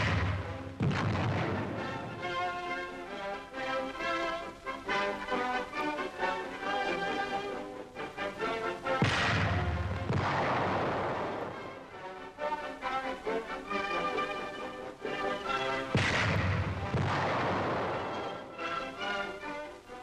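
A 1942 4.2-inch chemical mortar fires 25-pound shells in three heavy, booming reports spaced several seconds apart, each followed by a long rolling echo that fades before the next shot.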